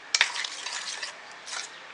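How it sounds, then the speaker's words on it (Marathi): A spoon stirs mixed vegetable idli batter in a bowl: a couple of sharp clinks at the start, then soft, wet scraping and swishing that fades and returns, close up. "छान मिक्स करून घ्यायचं"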